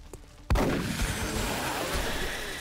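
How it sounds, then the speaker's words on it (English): A single loud gunshot in XCOM Enemy Within, with the Thin Man alien exploding into poison, hits sharply after half a second of quiet and rolls out into a long, rumbling explosion tail. "Adam's shot hits, the thin man explodes in a cloud of poison"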